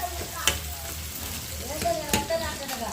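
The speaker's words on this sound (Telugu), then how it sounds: "ఉల్లిపాయ పచ్చిమిర్చి అనేది బాగా ఫ్రై అంత వరకు అయితే ఫ్రై చేసేసుకోవాలి" Onion and green chilli fry in a pan with ginger garlic paste for egg biryani, giving a steady close sizzle with occasional stirring clinks and no talk.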